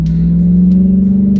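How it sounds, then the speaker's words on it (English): A Ram TRX truck idles and runs loud and close, with a steady droning exhaust rumble and the supercharger's blower whine holding an even tone throughout. "I hope the blower whine comes through to you guys, the exhaust is coming out"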